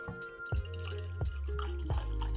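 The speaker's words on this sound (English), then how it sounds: "Let's pour it." Russell's Reserve Single Rickhouse 10-year bourbon, bottled at 120.2 proof, glugs from a 750 ml bottle into a glass in a steady pour with three distinct gurgling pulses, close and fairly quiet.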